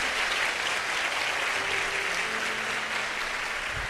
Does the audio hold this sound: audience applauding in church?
yes